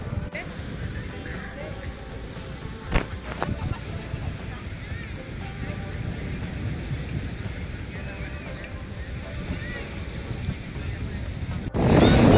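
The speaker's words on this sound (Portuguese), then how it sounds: "O vento deu uma aumentadinha, ó. A água do mar tá até um pouco mais agitada" Wind and surf at a beach in Albufeira, Algarve, a steady broadband roar of gusts buffeting the microphone over rolling waves, fairly loud throughout and surging louder at the very end.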